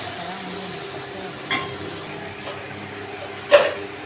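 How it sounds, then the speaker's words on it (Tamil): Masala for sankara fish curry sautéing in a pan, a soft steady sizzle with a couple of brief scraping stirs, fairly quiet and without talk. "ஓரளவுக்கு பச்சை வாடை போகிற அளவுக்கு நல்லா வதக்கலாம்."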